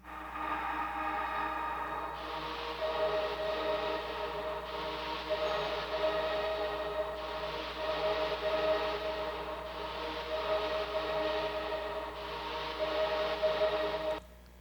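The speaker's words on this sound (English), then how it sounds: "There's this sort of atmosphere, maybe glitchy idea that sounds like this." A hazy, atmospheric synth texture with a faint glitchy tone flickering through, steady and continuous, with no voices.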